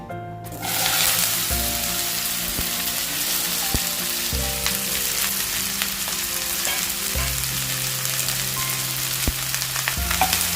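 Sliced okra (bhindi) fries in hot oil for a Maharashtrian bhaji, a loud, continuous sizzle with occasional stirring clicks, over soft background music.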